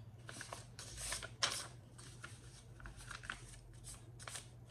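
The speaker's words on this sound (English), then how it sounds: "Fold up the packing slip." A paper packing slip being folded while packing a small shipping order, a quiet close-up of soft papery crinkles and crisp creasing rustles in a few short bursts over a low steady hum.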